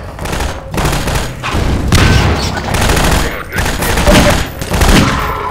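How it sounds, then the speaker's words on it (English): Repeated heavy shotgun blasts in Half-Life 2, loud thudding booms coming in quick irregular bursts, with a voice mixed in among the shots. "Long range shotgun! Bang! Bang!"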